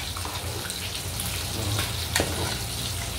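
Fish frying in a pan gives a steady, moderately loud broadband sizzle with a low hum underneath, and one sharp crackle pops out near the end.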